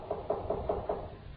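Knocking on a wooden door in a children's Red Riding Hood story: five evenly spaced raps, moderately loud and close, with no voices.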